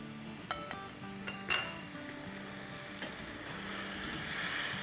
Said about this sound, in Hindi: पोहे को थोड़ा सा इस तरह से हिला लेते हैं ताकि वो थोड़ा सा फ्लफ़ी हो जाए।